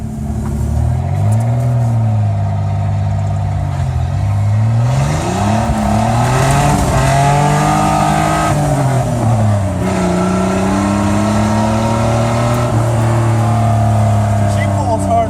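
A truck with a damaged driveshaft revs hard while drifting, its engine pitch climbing and falling in long sweeps with a rough, juddering drone, loud and continuous throughout.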